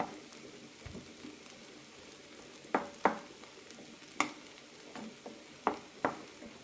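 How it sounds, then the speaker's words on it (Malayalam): Vermicelli semolina upma being stirred in a pan, with a soft steady sizzle and a few sharp scraping clacks of the spoon against the pan, close and fairly quiet, no talk. "ഇടയ്ക്കൊന്ന് ഇളക്കാം നന്നായി തട്ടിപ്പൊത്തി വയ്ക്കാം"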